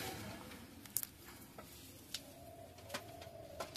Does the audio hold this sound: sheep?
no